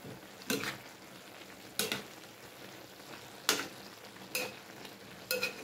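Vegetables with pork for pinakbet get stirred in a pan over a soft, steady sizzle, with five separate scraping strokes spaced about a second apart. No one speaks.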